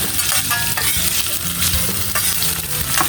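Hotdog pieces sizzling loudly in a frying pan nearby, steady crackle broken by repeated spatula stirs and light metallic scrapes.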